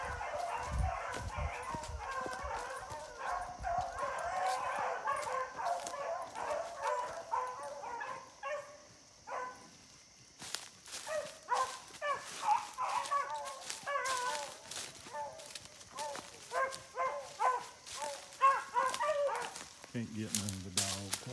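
A pack of beagle hounds bays and yips excitedly during a chase, overlapping howling cries rising and falling, some near and some farther off, with a few whimpers.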